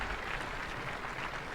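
An outdoor crowd reacting during Reagan's Berlin Wall speech, a dense continuous roar of distant applause and cheering from an old, noisy recording.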